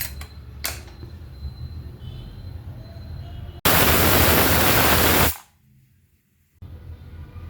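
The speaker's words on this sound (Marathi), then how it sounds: "कुकर आपल्याला खोलून घ्यायचं आहे वाफ काढून घ्यायची त्याची" Steam from a pressure cooker holding chicken rassa curry is vented as one loud, close, steady hiss lasting under two seconds. It cuts off sharply and is followed by near silence.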